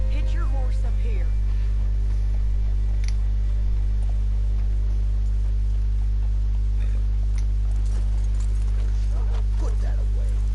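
Horse hooves clip-clopping in the Red Dead Redemption 2 video game, a scattered rhythm of hoof steps over a loud constant low hum, with faint game sounds around.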